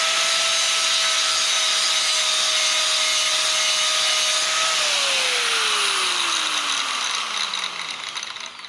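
Harbor Freight angle grinder, a Bauer or Hercules model, running alone with a high steady whine, then winding down as the motor spins to a stop, pitch sliding lower over several seconds.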